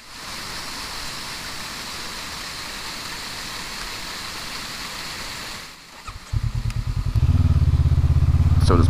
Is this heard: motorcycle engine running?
yes